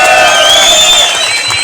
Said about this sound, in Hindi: 2000 तालियां।